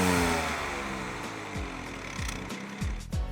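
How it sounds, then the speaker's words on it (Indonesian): A BMW 218i Gran Coupe with a three-cylinder engine revs in repeated short bursts, each rising sharply in pitch, over a steady near engine drone. "Kelebihan ketiga, suara mesinnya yang menggugah adrenalin."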